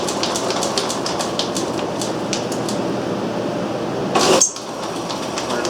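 A Garvin lathe's motor runs forward after rewiring, a steady mechanical hum with light rhythmic clicking and a brief louder bump near the end.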